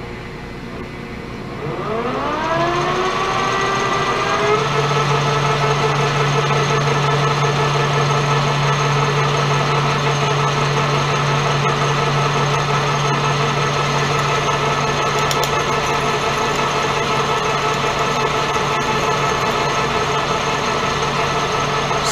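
A milling machine drives a number 8 drill bit into stainless steel, making unusual noises. The motor spins up quickly, then holds a loud, steady whine with a low hum layered over it.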